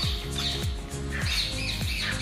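Several pigeons squawk and chirp repeatedly at close range in a breeding loft, overlapping calls in a busy enclosure with no talking.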